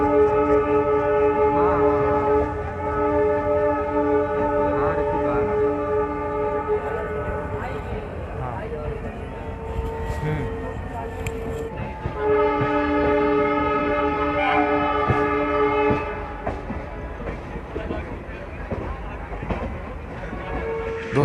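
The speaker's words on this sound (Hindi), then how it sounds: "तो चलिए अब लखनऊ से डिपार्चर आपको दिखाते हैं।" An Ayodhya Cantt–Delhi Express LHB train pulls out of Lucknow station, with a loud sustained multi-tone horn blaring over a steady rumble and rail clatter, the horn pausing briefly before sounding again.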